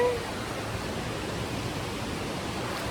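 Steady, broadband rushing of a waterfall at the end of a steep canyon hiking trail in Cloudland Canyon, heard close and continuous with no voices over it.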